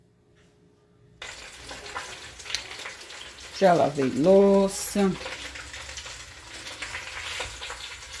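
Chopped pork fat frying in a pan for torresmo, a soft steady sizzle with a brief burst of louder crackling and stirring in the middle, while someone talks nearby.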